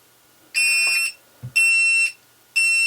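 A VolantexRC Trainstar RC plane's lost-model alarm sounds loud, piercing electronic beeps in three evenly spaced half-second bursts, with a brief click between the first two.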